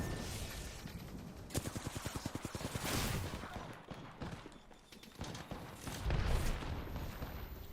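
Enemy gunfire in Apex Legends, a ranked match on Storm Point, with rapid automatic bursts rattling in clusters amid dense, loud battle noise and occasional heavier booms.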